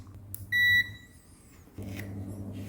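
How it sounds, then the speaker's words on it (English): A multimeter set to continuity test gives a short, clear electronic beep during a heating fan repair, a single tone lasting under a second in a quiet room. "now we set the multimeter into diode and continuity test"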